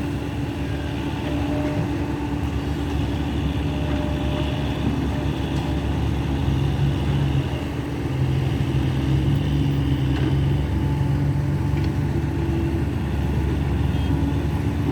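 A Kobelco SK120 Mark 3 excavator loads soil into a six-wheel dump truck, giving a continuous mid-pitched diesel engine drone that holds steady with slight surges throughout.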